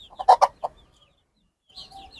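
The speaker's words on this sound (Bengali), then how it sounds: "আর সাথে যে মুরগিটা আছে এটা হলো দেশি মুরগি" A desi hen clucks near her young chicks: a quick cluster of three close, throaty clucks, a pause, then faint high chirping peeps.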